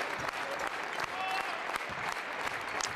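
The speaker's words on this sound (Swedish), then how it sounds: "nu kommer publiken att stå upp och klappa här tills dess att Jämtland gör sina första poäng" A basketball crowd in a Swedish arena stands and claps during a Jämtland versus Borås game, a fairly faint, sustained wash of clapping with scattered sharper claps and a brief tone partway through.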